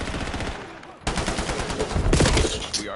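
Loud bursts of rapid automatic gunfire in Call of Duty Black Ops 7, a steady stream of shots that breaks off briefly near the one-second mark and then resumes even harder.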